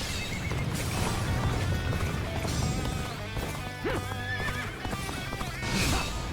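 A horse in the Dynasty Warriors Origins video game gives a loud whinny over the thud of galloping hooves, set against battle noise and background game sounds for a few seconds.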